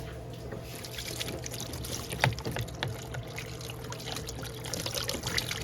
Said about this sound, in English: let's get some water on here